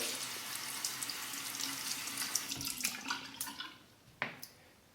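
Hot running tap water streams close by over a shaving brush, with soft splashing and a few sharper clicks and taps as the brush is moved under the flow.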